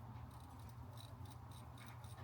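A rough, scratchy grinding from a worn pilot bearing in a 1JZ-swapped BMW E36, steady and fairly faint, with a gritty texture like sandpaper rubbing.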